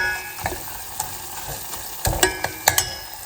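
Khoa, or milk solids, sautéed in a pan for kheer gives a close, soft sizzle broken by scraping stirs and several sharper clicks near the end, with no talking.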